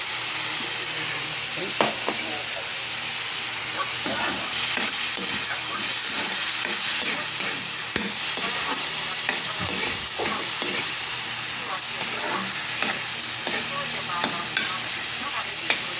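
Pork frying in a pan with soy sauce being added for a Filipino pinakbet, a steady close sizzle with stirring scrapes throughout and a brief spoken word.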